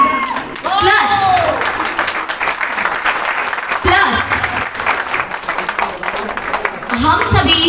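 A crowd at an anniversary celebration and cake-cutting event in Delhi bursts into loud, sustained clapping for the management and team, with people talking and cheering over the applause.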